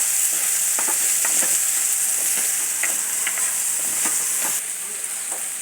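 Ghol bhaji (purslane) seasoned with salt and turmeric sizzles steadily in a pan, with a continuous frying hiss broken by soft scraping strokes of a spatula stirring the greens.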